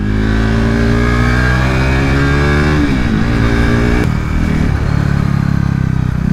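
A KTM RC 390 Cup race motorcycle lapping a kart race track at Adams Motorsport Park, its engine loud and close with a steady high rev that drops as it shifts and then climbs again, with no talk.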